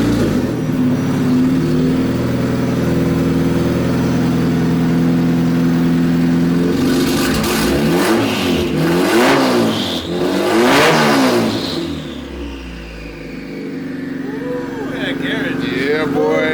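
A Nissan 240SX with a swapped Honda K24 engine idles loudly inside a home garage, then revs in several rising and falling pulls before settling back to idle, with voices talking over it.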